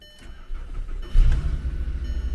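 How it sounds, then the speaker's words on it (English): A car engine with 222,000 miles cranks briefly and catches, then settles into a steady low rumble close by, with no talking. "let's just go ahead and see if she starts"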